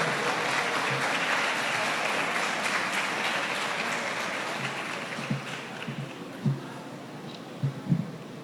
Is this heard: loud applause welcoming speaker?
yes